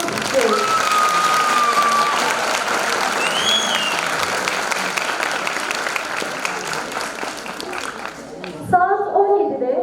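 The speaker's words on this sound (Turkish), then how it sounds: "kocaman bir alkış istiyoruz" Concert audience gives a Turkish music choir a long, loud round of applause, dense clapping that holds steady then thins out, with a voice and some whistles rising near the end.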